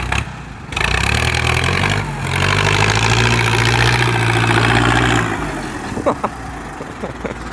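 A New Holland 6640 4x4 tractor engine runs with a loud, steady low rumble that fades near the end, leaving quieter background noise with a few clicks.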